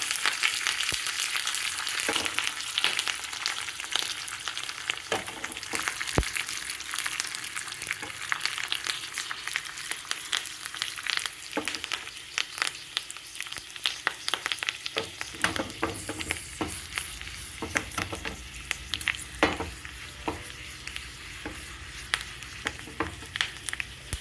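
Curry leaves sizzle and crackle in hot oil for a tempering, with a steady fry and scattered pops as the pan is stirred, continuous and close throughout.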